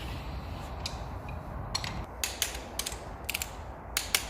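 A Mazda 13B rotary engine turned over by hand, ratcheting and clicking in uneven bursts with faint mechanical creaks, close and quiet, and louder sharp clicks near the end.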